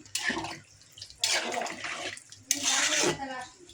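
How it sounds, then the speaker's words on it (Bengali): Water is poured into a cooking pot in three separate gushing bursts, each about a second long, with brief quiet gaps between them. The pouring is close and fairly loud. "এই যে এখন জল দিমু, জল দিলাম"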